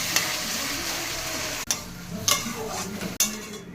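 Egg being stirred into a curry in a pan, a steady sizzle of frying with a few sharp scrapes and clicks of the spoon against the pan, close and alone.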